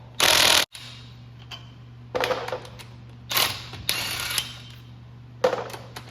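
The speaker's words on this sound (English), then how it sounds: "Got a 15/16 on our DeWalt impact gun. We'll take this wheel off." A DeWalt impact gun fitted with a 15/16 socket works on a Chevy truck wheel, firing several loud rattling bursts separated by pauses over a low steady hum.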